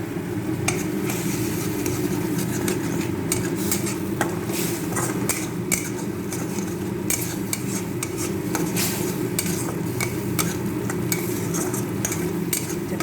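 Spices and green peas fried and stirred in a pan for a Bengali peas masala, a constant close sizzle under repeated scraping and clinking of a spoon against the pan.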